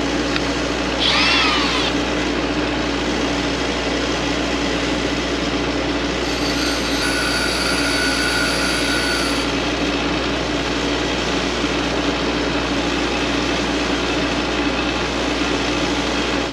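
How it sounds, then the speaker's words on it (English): A PrimeWeld AC/DC TIG 225X welder runs steadily while welding aluminum, giving a continuous close hum and buzz with a brief higher whine partway through, no voices. "get the machine fired up and start welding."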